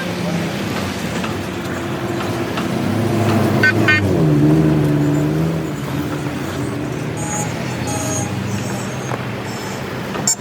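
A convoy of 4x4 off-road cars and bikes setting off together, engines rumbling and rising as vehicles pull away near and then ease, with a few faint voices mixed in.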